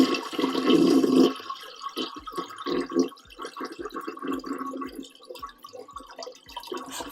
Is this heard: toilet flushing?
yes